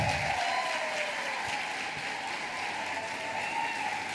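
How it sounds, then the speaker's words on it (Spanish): A church congregation applauds in steady, sustained clapping that fills the space evenly from start to finish, with no voices rising above it. "Dale un aplauso grande al Señor, vamos."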